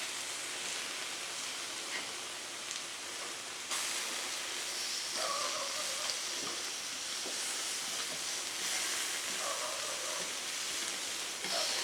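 Chicken pieces sizzle loudly on a hot griddle after being flipped, a dense, continuous hiss that swells slightly partway through and holds steady with faint pops.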